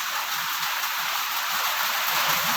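Rain falls steadily, a soft, even hiss of drops on surfaces with no distinct impacts, fairly faint and continuous throughout, with no voices.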